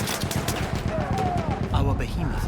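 Rapid automatic gunfire from the video game Battlefield 1 rattles in dense, repeated bursts throughout, loud and close, with a voice talking briefly over the shooting.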